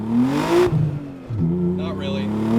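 A 500 hp Nissan 300ZX twin turbo accelerates hard in first gear, its engine note climbing, dipping briefly, then climbing again in a loud, close, continuous rev with no talk over it.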